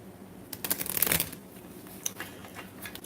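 A deck of tarot cards is shuffled by hand, one quick riffling burst followed by a few soft taps and flicks, close and quiet.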